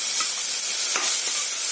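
Chopped tomatoes hit hot oil with onions for vermicelli upma and fry with a loud, steady sizzle close by, while a spoon stirs the pan with a brief scraping sweep partway through.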